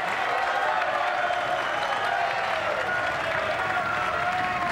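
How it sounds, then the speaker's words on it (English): Thunderous applause from a packed snooker arena crowd after a shot, a dense, sustained roar of clapping at steady loudness throughout, with a faint murmur of voices blended in. "Thunderous applause for Ronnie."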